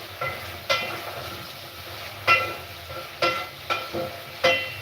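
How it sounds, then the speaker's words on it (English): Food frying in a pan is stirred in sharp, scraping strokes, about seven spaced bursts over a low sizzle, close and fairly loud with no talk. "You keep stirring, so that it doesn't."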